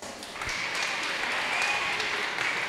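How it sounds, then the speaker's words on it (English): Soft, distant applause from an audience at a youth day event welcoming a former club president, steady clapping at low level throughout. "Let's give her a round of applause"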